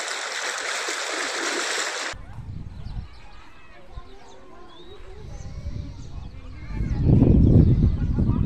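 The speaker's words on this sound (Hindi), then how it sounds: "इधर सामने नदी" A flooded river flows in a steady, broad, rushing wash that swells louder toward the end, with voices and a dog's yips nearby.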